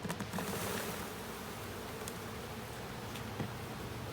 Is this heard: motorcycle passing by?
no